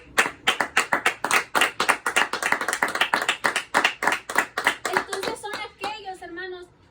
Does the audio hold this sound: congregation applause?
yes